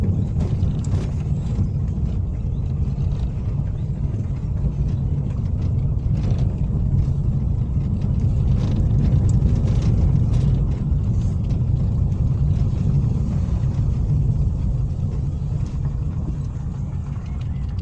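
Car driving on a road near Fontainebleau, a steady low engine drone and tyre rumble from inside the cabin, continuous and even throughout with faint rattles and no talking.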